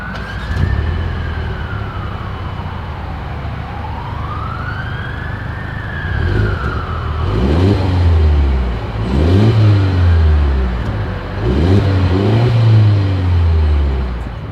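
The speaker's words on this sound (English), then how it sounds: "As always, here is that exhaust clip." A 2023 Mercedes-Benz GLE 350 SUV engine revs repeatedly in loud bursts over a rumbling exhaust note, while a rising and falling siren-like tone wails in the background.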